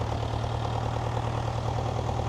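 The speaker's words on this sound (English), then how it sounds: "So you can see all the tractors everywhere, all lined up," Vintage tractors lined up at a ploughing match idle steadily nearby, a continuous low diesel chug and hum with an even, unbroken rhythm and no talk over it.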